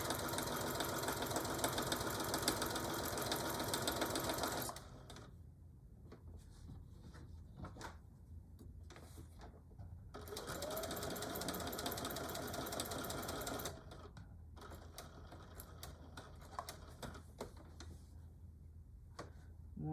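A sewing machine stitches half square triangles for a Christmas quilt in bursts of rapid mechanical whirring, running, stopping for quiet handling pauses, then running again, close and clear.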